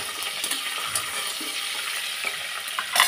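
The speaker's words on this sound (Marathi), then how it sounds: "दालचिनीचा तुकडा घेतलेला हा पण टाकून घेते आणि वेलची अख्खा लसूण टाकून घेऊया आणि छान प्रकारे परतून घेऊया." Cinnamon, cardamom and whole garlic sauté in hot fat in a pan for Khandeshi khichdi. A dense, steady sizzle comes with light stirring scrapes and ends in a louder clatter, and no voices are heard.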